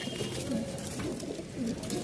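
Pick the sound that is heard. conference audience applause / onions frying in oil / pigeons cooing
pigeons cooing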